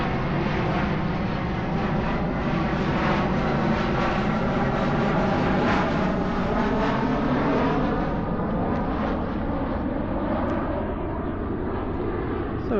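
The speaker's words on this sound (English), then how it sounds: "Noisy plane" An airplane passes overhead at night in Osaka, a loud broad roaring rush that swells and slowly fades, steady throughout with no talk.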